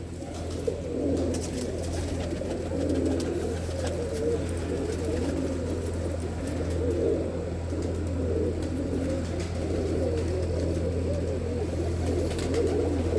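Pigeons coo continuously inside a very large netted aviary, a dense, soft chorus of low, throaty calls with a steady low hum beneath and no talking.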